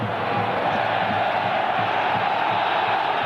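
A home crowd in a Serie A football stadium at A.C. Milan versus Fiorentina voices disapproval as a broad, steady roar of whistles and jeers, loud and sustained throughout.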